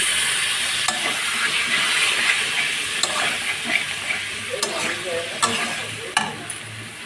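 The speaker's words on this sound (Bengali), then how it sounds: "এই বাটির মধ্যে যে মশলা আছে সেই জলটা দিয়ে দিচ্ছি।" Spiced water poured into a pan of potato and spinach curry, followed by steady sizzling and frying with stirring, spoon scrapes and a few clinks standing out clearly.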